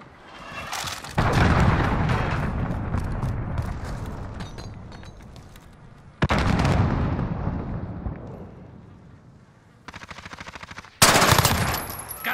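Call of Duty: Modern Warfare hardcore Domination match, with a heavy missile blast followed by sustained loud machine-gun fire. The rattling bursts cut off abruptly and then restart, and a second explosive burst comes near the end. No voices are heard.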